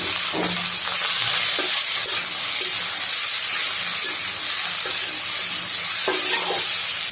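Noodles with turmeric and egg stir-fry in a pan, giving a loud, continuous sizzling hiss with occasional scraping and clinking from stirring.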